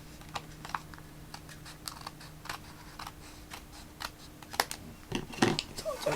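Scissors snipping a small piece of paper while making a mini envelope, a few soft crisp cuts and rustles close by, quiet and with no one talking.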